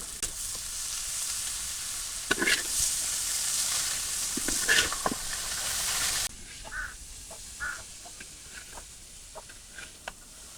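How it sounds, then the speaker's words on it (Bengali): Potatoes frying in a pan with onion and garlic give a steady sizzle, with scattered soft clinks and scrapes of stirring, close and fairly quiet, no talk. "পিঁয়াজ রসুন তালা হয়ে গেছে এখন আমি আলু দিয়ে দিব"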